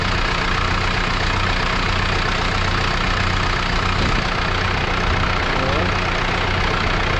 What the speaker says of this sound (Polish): Silnikiem czterocylindrowym chyba tego e, Fergusona, czterocylindrowy silnik tam jest założony